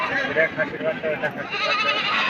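Several high, wavering bleats from young male goat kids sound close by in quick succession, mixed with some background noise.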